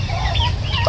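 Pet turkeys calling in a pen, several short clucking and gobbling calls over a constant low background hum, moderately close.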